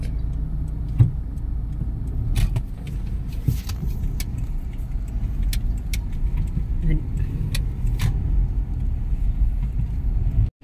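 Busy road traffic rumbles steadily around a moving vehicle, with passing cars, occasional clicks and rattles, and voices talking intermittently over the continuous drone.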